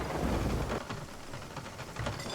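A stormy sea in the pirate game Sea of Thieves, with steady rain hiss and low rumbling thunder swelling at the start and again near the end, fairly close and continuous, with no talking.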